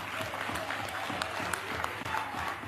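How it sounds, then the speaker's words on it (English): Members in a parliament chamber give a short round of applause, the clapping soft and distant yet continuous. "can we clap for Robert Sobukwe?"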